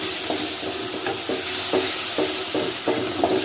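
Tomatoes sauté in hot oil for a Kerala beef curry, a loud, continuous sizzle broken by regular scraping strokes of a spoon against the pan, about two each second.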